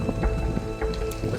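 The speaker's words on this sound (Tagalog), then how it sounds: "lumalakas na ang ulan" Heavy rain drums steadily outside a van, with scattered louder drops and low thuds standing out against the constant patter.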